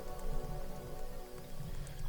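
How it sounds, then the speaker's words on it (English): Light drizzle patters softly and steadily on leaves outdoors in Xalapa, Mexico, a faint, even hiss of fine drops with occasional clearer ticks. "The drizzle started falling softly now"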